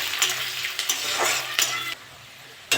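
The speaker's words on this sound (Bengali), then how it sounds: "ভালো করে ভেজে নেবো পেঁয়াজটা।" Onions with crushed garlic frying in a pan while being stirred, a close sizzle broken by scraping strokes of the spoon; the sizzle drops away near the end before a final clatter.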